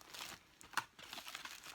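A clear plastic bag crinkles and rustles as it is handled for packing, with soft, close crackles and one sharper crunch, quiet throughout.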